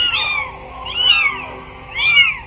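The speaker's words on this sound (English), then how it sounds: "the kitten is meowing loudly to call for help from its mother" A young kitten, just brought out of its nest for the first time, gives three loud, rising-and-falling meows about a second apart, calling for its mother, close to the mic with no talk.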